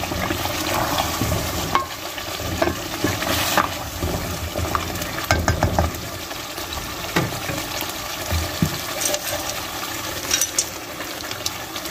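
Chickpeas, boiled and frozen beforehand, cook covered in a pan over a low flame, giving a steady close sizzle with scattered stirring and clinking sounds throughout.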